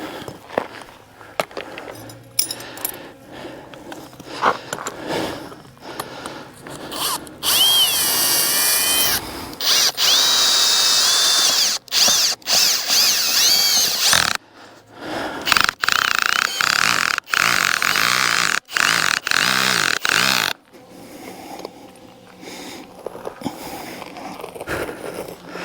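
A power drill drives a tent stake into the ground outdoors in repeated bursts of whining, grinding motor noise, with short pauses, footsteps and handling between runs.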